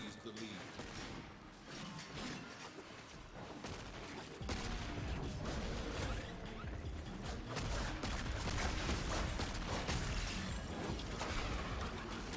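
Shotgun blasts in the video game Warframe ring out amid heavy in-game action and clutter, repeated booming shots mixed with mechanical clanks and effects, with a voice talking over parts of it.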